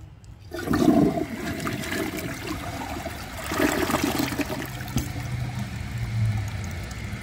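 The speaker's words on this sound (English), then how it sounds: "So I'm going to hold the handle and do another flush" A 2014 Delta Corrente toilet flushes with its handle held down, a close, steady rush of swirling water that surges twice and trails into trickling and refilling.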